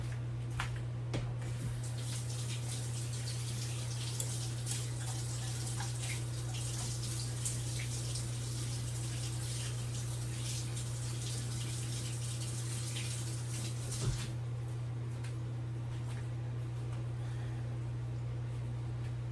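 Kitchen tap running while hands are washed, a steady hiss of water with faint splashes and a low hum underneath, continuous for about nineteen seconds, near and moderately quiet.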